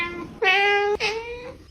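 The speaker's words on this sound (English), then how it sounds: "How my ordinary cat sounds like?" An ordinary domestic cat gives two close, clear meows in quick succession, the first longer and the second slightly shorter, heard alone.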